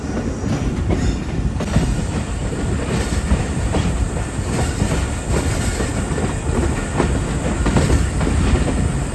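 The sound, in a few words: Shah Khan Khattak Express train passing on mountain track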